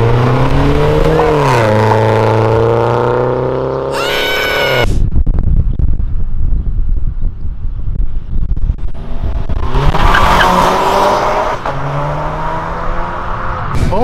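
A Volkswagen Golf GTI accelerates hard at a road entrance near a Porsche. The loud, close engine climbs through rising revs, pauses briefly at a shift, then pulls hard again.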